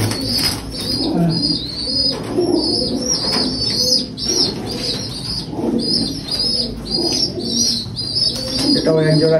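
Teddy pigeons coo continuously up close, joined by chirps and bursts of wing flapping. Voices can be heard faintly in the background.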